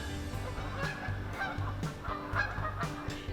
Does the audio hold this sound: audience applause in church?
no